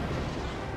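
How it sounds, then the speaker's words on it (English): A single deep bomb blast from Star Fox Command booms for under a second, a dense low rumble with no voices over it. "speaking of bombs, I'm definitely using them on this enemy"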